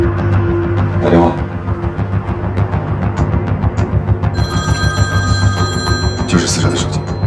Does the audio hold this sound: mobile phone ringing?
yes